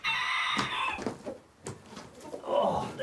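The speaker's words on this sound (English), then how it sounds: "These are my chickens I brought over, and they're light Sussex is the breed." Light Sussex chickens on a farm cluck and call in short bursts, with a rooster-like crow or two, fairly close and loud with brief pauses between calls.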